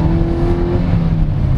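Loud, steady engine drone heard from inside the cabin of a 2023 Hyundai Stargazer MPV with poor engine insulation, with a low hum and a whining tone that fades, and no talking.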